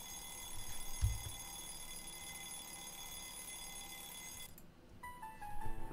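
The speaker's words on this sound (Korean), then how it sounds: "아, 뭐야, 벨소리." A phone ringtone rings during photo editing, a steady repeating electronic tone holding at moderate loudness for several seconds before stopping, then a brief different melodic chime follows.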